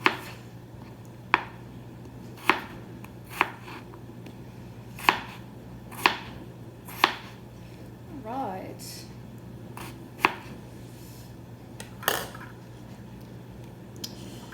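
A kitchen knife chops potatoes into small squares for soup on a cutting board, giving sharp, evenly spaced thuds about once a second, close and clear, with faint talk in the background.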